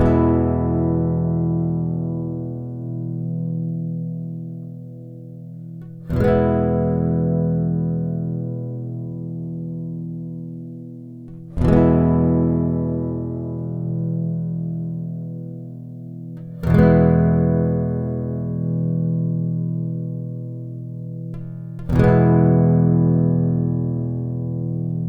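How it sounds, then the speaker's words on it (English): Chords are strummed on a Yamaha SLG200N nylon-string silent guitar, five separate strums about five seconds apart, each left to ring and slowly decay, clear and close with no voices. "I'll just strum a basic chord and try again."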